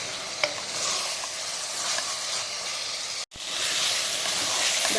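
Chicken perattu sizzles and fries steadily in a pan on high flame, a dense continuous hiss broken by a brief gap, with occasional stirring.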